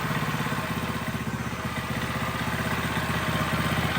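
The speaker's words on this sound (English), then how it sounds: "Engine sounds great." A motorcycle engine idles steadily just after startup, with a fast even low throb and a faint mechanical clatter, loud and close with no voices over it.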